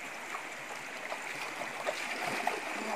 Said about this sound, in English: This is a tributary of Panyur River.